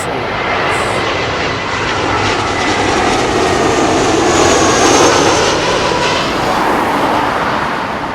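An Airbus A320 lands at London Heathrow arriving from Brussels, its engines a loud, near roar that builds to a peak midway and then eases slightly, with no speech.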